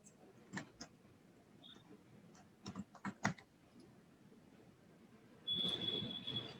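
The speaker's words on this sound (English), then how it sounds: "I'm just gonna type in my handle" A computer keyboard clicks in scattered bursts of keystrokes as a handle is typed, close and fairly quiet, ending with a steady high electronic tone and a rise in background noise.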